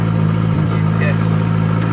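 A turbocharged KA engine in a Nissan 240SX drift car idles unevenly with its timing off, a steady low droning hum with a brief stumble, while people talk over it close by.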